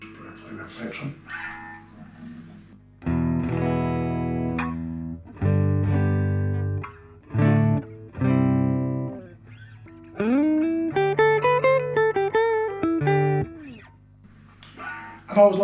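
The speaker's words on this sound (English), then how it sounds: "So I am playing a Guild S50 into a Fender Champ 600." A Guild S50 electric guitar plays through a treble booster pedal into a Fender Champ 600 valve amp, with bright, slightly distorted strummed chords followed by a run of single picked notes, each phrase separated by short pauses.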